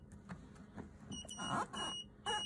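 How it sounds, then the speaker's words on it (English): A Dometic fridge in a 2014 Xplore 574 caravan beeping with no gas connected, sounding as a few short, high electronic beeps close by. "It's beeping because we've got no gas connected."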